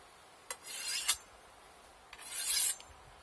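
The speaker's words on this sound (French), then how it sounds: "c'est relativement long de refaire un fil au fusil" A knife edge is honed on a sharpening steel in two separate strokes, each a short bright metallic scrape lasting under a second, close and fairly quiet.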